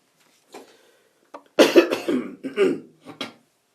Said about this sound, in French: c'est pour cela on tousse un peu